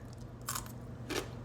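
Two crisp crunchy bites into seawater-pickled fermented daikon radish, close up and spaced about half a second apart, over a steady low background hum.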